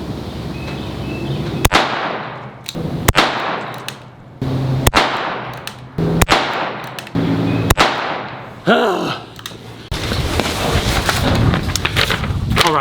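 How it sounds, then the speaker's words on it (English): Six sharp, evenly spaced shots from a Colt King Cobra 6-inch target revolver in .22LR ring out at a 10-yard outdoor range. Each crack is followed by a short decay, and some rustling and handling noise follows the string. "we're out here at 10 yards. Let's fire these off."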